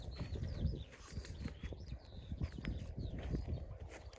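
Hooves of a pregnant mare clop steadily and close by on a farm, a repeated uneven beat of dull knocks, with faint bird chirps in the background.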